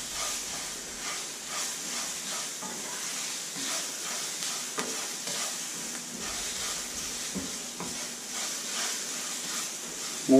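Chopped onions sizzle steadily in a hot pan with soft scraping stirs now and then while cooking for Spanish rice, a close, even hiss with no talking.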